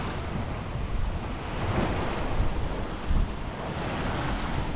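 Wind and ocean waves under sail on Mexico's Pacific coast with no motor running and about 10 knots of wind, a steady rushing roar of surf and gusty microphone wind throughout.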